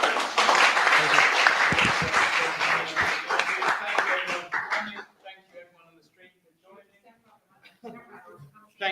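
Applause closes a DevSecOps security talk: a full burst of audience clapping for about five seconds that quickly thins to a few scattered claps, with voices talking faintly as it dies away.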